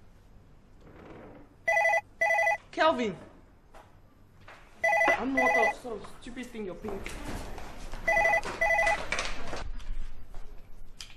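A telephone rings in repeated electronic bursts inside a busy household in an African drama, the rings sounding in several sets of two to three pulses while people argue and shout over them.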